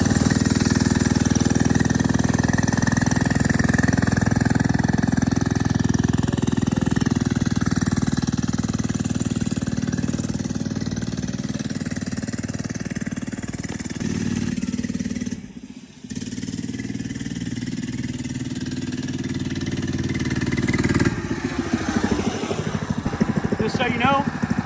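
A 99cc four-stroke FRP GMB100 mini dirt bike engine runs steadily and close for a long stretch, a buzzy single-cylinder drone that dips briefly partway through, then revs up and turns choppier near the end.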